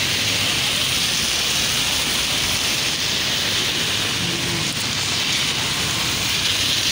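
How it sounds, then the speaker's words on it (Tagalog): Heavy typhoon Odette rain pours steadily at Mandulog Bridge in Iligan City, a dense, loud, unbroken roar of downpour filling the whole stretch with no pauses. "Ay, kusog naman gudang ulan."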